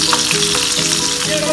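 Pomfret fish pieces fry in hot oil with a steady, dense sizzle throughout, close and fairly loud, with faint utensil clinks and no talking.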